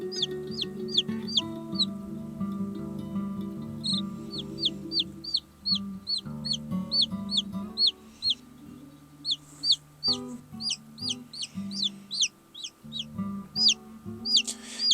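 A newly hatched chick, one of a small incubator batch, cheeps in rapid high repeated peeps, close and clear, alongside lower clucking from fowl throughout.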